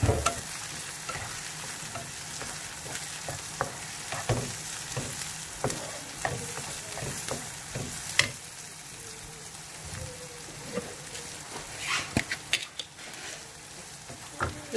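Ginger sautéing in a pan for chicken porridge, a steady close sizzle with repeated spoon-stirring scrapes and taps throughout.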